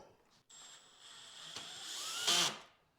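Screw gun driving screws into metal brackets while new wall cabinets are assembled in a garage. The whine runs steadily, then rises to a louder burst near the end before stopping.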